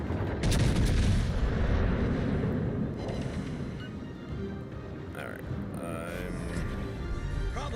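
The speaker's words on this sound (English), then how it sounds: "I need my front cannons." Ship's front cannons fire in a naval video game battle, giving dense rumbling booms and a barrage that is loudest early and then continues more quietly beneath in-game voices and other battle sounds.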